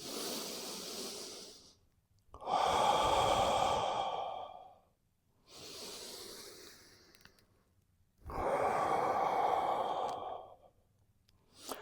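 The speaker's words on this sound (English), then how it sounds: "Breathe out. Breathe in. Breathe out." Slow, deep breathing during a neck and shoulder relaxation exercise: four long, close breaths alternating in and out, each lasting about two seconds with short quiet pauses between, no talking.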